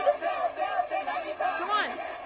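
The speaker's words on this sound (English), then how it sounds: "they're doing the cheer again!" A cheering crowd in the anime Free! Eternal Summer, a dense mass of voices chanting and whooping together in a steady rising and falling roar that builds toward a louder swell near the end.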